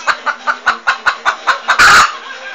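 An assertive hen clucking close by, about nine sharp, evenly spaced clucks ending in a louder, harsher squawk.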